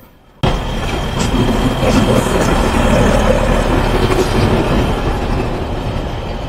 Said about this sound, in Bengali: আর এই যে মংলা কমিউটার ট্রেন